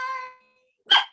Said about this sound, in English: My dogs are going to bark a little.